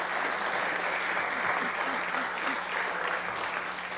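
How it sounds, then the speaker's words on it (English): An audience at a 2024 State of the City event applauds steadily, a dense wash of clapping that holds at an even level for the full few seconds with no voices on top. "How about an applause for Donald, you guys?"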